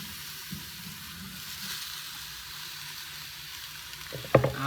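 Potatoes and jalapeno drop into a soup pot already holding fresh thyme and sage, giving a steady low sizzle with a sudden splash and louder crackle near the end.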